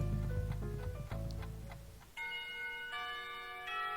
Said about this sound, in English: The bell to signal the beginning of lunch rings out.